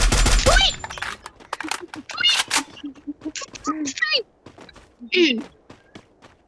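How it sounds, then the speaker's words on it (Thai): Bursts of rapid gunfire in the video game Free Fire crackle in quick rattling volleys, mixed with frequent excited, high-pitched speech and shouting from players. "เฮ้ยใครยิงอะไรน่ะ ใครยิงอะไรอ่ะ"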